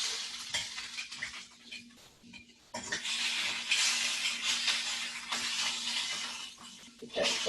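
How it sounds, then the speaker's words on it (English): Garlic sizzling and browning in a pan gives a steady, bright hiss while a utensil scrapes and clinks against the pan during stirring, with a faint hum underneath. "That garlic is going to impart its flavor, and it's going to brown"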